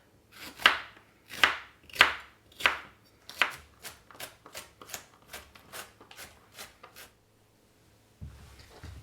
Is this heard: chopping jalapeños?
yes